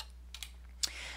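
Keystrokes on a custom-built computer keyboard, a few sparse clicks close by with one sharper final tap, alone over a low steady hum.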